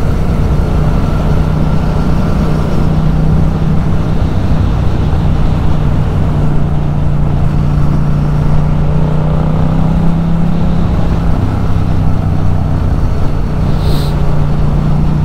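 A Yamaha MT-07 motorcycle's engine and exhaust drone steadily while riding, a loud, continuous low rumble with a faint rising tone in the middle, heard alone without talk.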